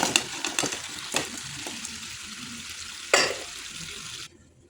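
Chicken pieces are stirred into a honey hot sauce in a pan with a spoon. A continuous sizzle carries sharp scraping knocks at intervals, loud and close, and then cuts out suddenly at the end.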